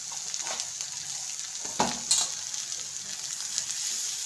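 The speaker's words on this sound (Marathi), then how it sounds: "त्यामध्ये बटाट्याची चटणी टाकते." Boiled, crumbled potato added to a hot pan, with a soft, quiet sizzle and a couple of sharp utensil scrapes and knocks partway through, brief and close.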